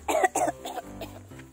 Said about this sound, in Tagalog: Naubo ako.